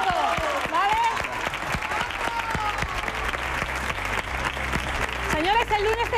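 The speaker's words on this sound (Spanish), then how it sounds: "te vas a llevar este pedazo de aplauso de nuestro jurado" Strong applause from the jury and studio audience on a Spanish television afternoon show, loud dense clapping under a presenter's voice, with sharp individual claps standing out.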